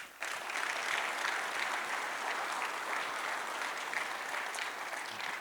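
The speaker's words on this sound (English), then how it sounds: "Give them a quick round of applause." Applause from the audience at a conference town hall opening session, steady even clapping from a crowd that holds for several seconds without talk.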